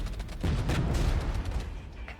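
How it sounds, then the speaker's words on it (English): Artillery fire thunders in the real-time strategy war game Regiments, a dense stretch of deep booming barrage rolling continuously at fairly close range. "I'm just going to wait for the artillery to stop coming in"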